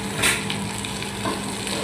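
Boorelu, sweet dumplings with filling, frying in hot oil, a loud close steady sizzle and crackle with small bursts of spattering throughout.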